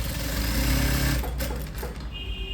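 A sewing machine stitches the side seam of a cross-cut blouse, whirring loudly and steadily up close throughout the whole stretch without pause.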